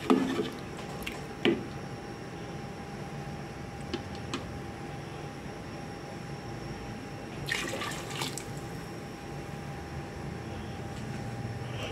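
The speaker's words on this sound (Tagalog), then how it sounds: "Maglagay na tayo ng konting tubig." Water poured into a cooking pot to make the soup base for fish sinigang with miso, a soft trickling stream under a steady hum, with a few brief splashes and clinks.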